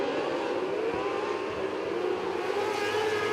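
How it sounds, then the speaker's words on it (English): Race cars roar down the front straightaway at Millbridge Speedway on opening night, a sustained loud engine drone with whining pitch that swells slightly as the pack passes, heard from the grandstand distance with no talk. "these cars are about to roar right past it once more"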